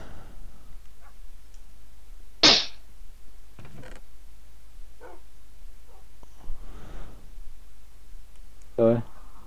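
A single sharp sneeze rings out during a Minecraft game session, with scattered clicks, thumps and creaks around it.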